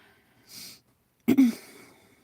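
A single sharp sneeze from a person indoors bursts out loud and close, preceded by a brief soft breathy intake, then fades into quiet room noise.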